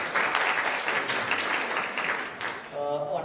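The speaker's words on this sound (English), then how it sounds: "Let's have a round of applause for all the presenters once again." Audience applause for presenters at a national chemical sciences conference, a full, even roar of clapping from a hall that fades near the end as a voice begins speaking.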